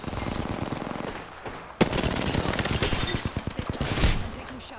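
Rapid automatic gunfire fills a shooter video game firefight, sustained and loud. A sharp blast lands near the two-second mark and the firing continues without a break.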